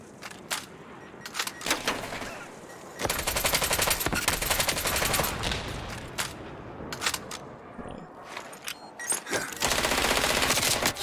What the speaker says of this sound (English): Oh, we're getting shot from behind.